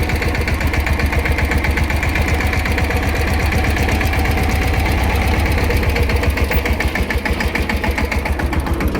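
A tractor engine idles loudly and close by, a steady, rapid knocking chug that holds an even rhythm throughout.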